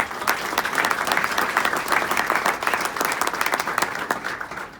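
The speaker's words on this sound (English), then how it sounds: "they deserve another round of applause" Luncheon audience at a Northern State University scholarship event applauds the scholarship donors, a loud, continuous burst of many hands clapping in a hall, crisp and even for nearly five seconds.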